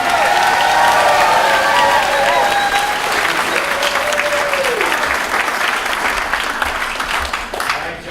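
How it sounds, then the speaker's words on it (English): A convention panel audience applauds, loud dense clapping with some cheering that keeps going strongly and then thins slightly toward the end, with whistle-like tones and a brief voice mixed in early on. "Big round of applause for Robin."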